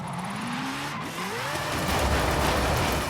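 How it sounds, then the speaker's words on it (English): A car drifts in Forza Horizon 5, engine revving and rising in pitch before tires squeal and hiss into a sustained skid, loud and close throughout. "So it's not the cleanest drifts"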